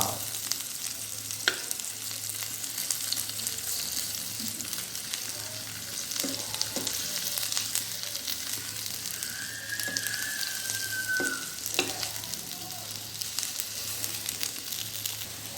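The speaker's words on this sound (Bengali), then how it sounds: "পুরো ফ্রাই প্যান ভরে পটল দিয়ে দিয়েছি এখন এপিট ওপিট সুন্দর করে লাল করে ভেজে নেব" Whole pointed gourds (potol) frying in a full frying pan, a steady soft sizzle running throughout with occasional faint clinks of stirring or turning.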